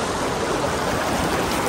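Fast-flowing stream water near McLeodganj rushes in a continuous, loud, close broadband wash with no pauses and no voices.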